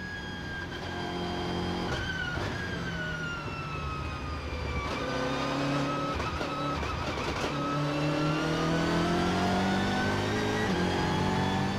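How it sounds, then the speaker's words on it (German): Onboard engine of a race car lapping the Nürburgring Nordschleife during the 2018 24-hour race, loud and continuous. The harmonic engine note climbs and falls through gear changes with brief shift breaks and never lets up. "Tolle Positionskämpfe, tolle Bilder, die einen Eindruck vermitteln, wie schnell die Autos auf der Nordschleife unterwegs sind."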